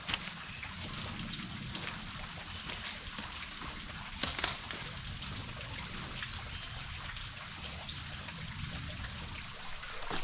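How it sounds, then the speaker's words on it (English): River trickling beside a hammock camp in an Australian rainforest, a soft continuous watery babble heard from nearby, quiet and steady with a brief louder splash midway. "the river trickling next to me down there"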